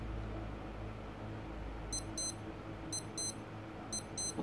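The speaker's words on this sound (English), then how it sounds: "that is a double beep at the top of every hour" A Casio W213 digital watch gives its test tone: three crisp, high double beeps at about one-second intervals, close and clear over faint background hiss.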